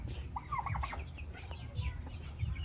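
A female Broad Breasted White turkey, about eight months old, makes a short run of gobbling, clucking calls, fairly near, over a steady low background hum.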